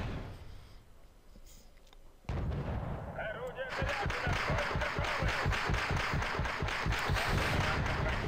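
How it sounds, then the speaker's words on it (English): In a war video game, artillery bombards an enemy supply base: after a quiet stretch and a sudden jump in loudness, a steady, rapid series of heavy booming shots pounds on and on. "I'm doing a essentially random bombardment at enemy supply base"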